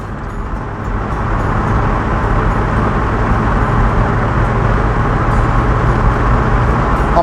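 A car accelerating hard from 50 to 70 mph with the pedal floored, heard from inside as a steady, loud low engine drone and road rumble that swells slightly and then holds.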